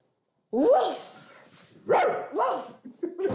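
A person mimics a dog's barking with several loud, close vocal barks in bursts, leaving short gaps between them.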